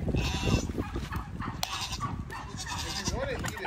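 A goat bleating while being fed carrots among farm animals, a couple of short close bleats mixed with loud chatter and talk, a dog-like sound also present.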